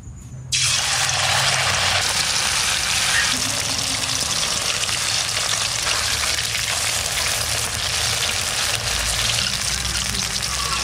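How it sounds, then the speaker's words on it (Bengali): Amudi fish dipped in batter and dropped into hot oil: an abrupt onset of loud, dense sizzling and crackling frying that holds steady and continuous for the rest of the clip, close up. "এবার এই ব্যাটারে চুবাবো আর তেলের মধ্যে ছাড়বো"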